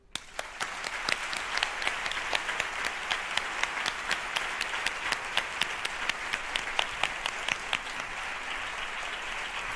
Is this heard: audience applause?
yes